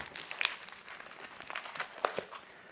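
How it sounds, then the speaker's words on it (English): Plastic packaging around a 3.5-pound beef chuck roast crinkles and crackles in a quiet kitchen, with scattered sharp rustles and a few brief tearing crunches. "Then we unwrap our beef."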